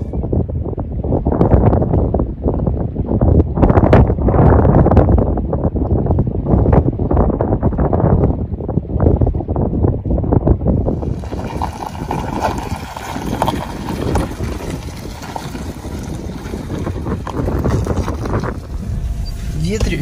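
Cold wind blowing on the Vilyuy river, buffeting the microphone in loud gusty rumbles alongside crunching and thumping movement, easing to a steadier, fainter rush in the second half.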